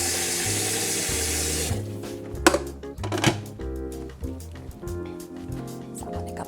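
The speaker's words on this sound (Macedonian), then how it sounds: "ќе додадеме уште вода, затоа што сакаме убава и течна чорба" Water pouring into a pot of chicken soup on the stove, a steady tap-like splashing flow at first that then gives way to quieter bubbling and clinks, with no one talking.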